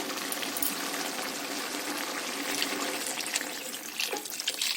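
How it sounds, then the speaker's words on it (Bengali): Water poured into a cooking pot of muri ghonto, a steady broadband gush running unbroken for several seconds, fairly loud and close, with no voices. "এবার আমি পরিমাণ মতন জল দেব, আর জল দিয়ে আমি ঢাকা দিয়ে দেবো।"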